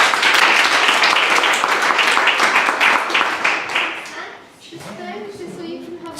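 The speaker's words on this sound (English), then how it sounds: "A huge round of applause, please." Audience applause after a startup pitch at an Edinburgh pitch event: loud, dense clapping from a crowd fills the first four seconds, then fades sharply while voices and chatter rise in the room.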